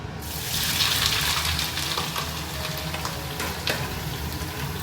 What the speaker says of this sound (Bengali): তেল গরম হয়ে গেছে সাদা তেলে করছি তো এই যে ফুলকপি আর আলুটা ছেড়ে দিলাম